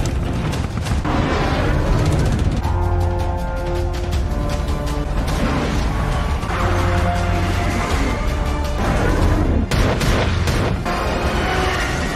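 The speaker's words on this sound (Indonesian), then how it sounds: "Greyhound kemudian menembaki Grey Wolf, yang dibalas juga tembakan torpedo dari kedua U-boat itu." Loud, rumbling booms and heavy blasts of naval gunfire and torpedo explosions in an Atlantic battle between a destroyer and U-boats, layered over a sustained, dramatic musical drone, with sharp bursts breaking through near the end.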